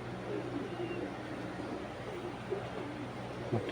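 A tournament racing pigeon, a heavy bird of around thirty-one kilos' class, coos in low repeated murmurs close by, with a steady background hum and occasional soft voices nearby.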